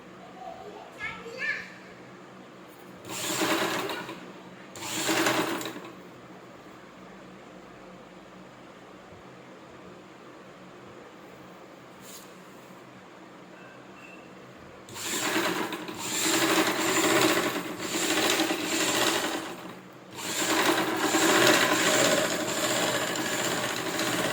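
A sewing machine runs a straight seam in bursts of steady whirring stitching, close and loud, with someone speaking in the pauses and faint children's voices in the background.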